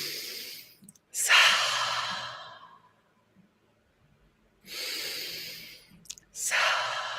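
Deep breaths during a breathing exercise: two long, close, loud exhalations with quiet gaps between them, heard alone without talk.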